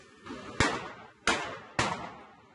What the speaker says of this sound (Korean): 이른 아침 주택가에 총소리가 울려 퍼집니다.